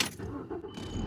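A car engine starts after a battery replacement, a short cranking turnover that catches into a running engine, close and moderately loud, with faint clinking alongside.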